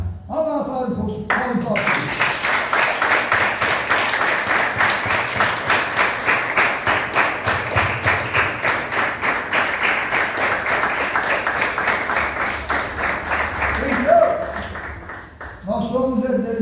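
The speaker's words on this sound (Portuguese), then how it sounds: "Vamos lá, salve de palmas." A church congregation claps together in a long rhythmic round, many hands beating a fast even pulse for over ten seconds, with a voice speaking briefly before and after.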